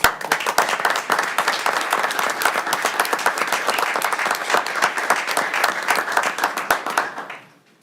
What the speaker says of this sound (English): I just would like to recognize her with a round of applause